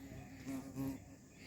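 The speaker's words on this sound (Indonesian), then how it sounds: "Ada tawon guys, dia mau nyentuh aku nih kayaknya." Wasps buzz faintly around a hiker on a weekday mountain trek, a soft intermittent drone that swells twice as an insect passes close, with no talk.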